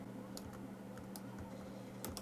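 Faint clicks from a computer keyboard and mouse come in a few quick, irregular taps over a low steady hum, quiet and close, with no voices.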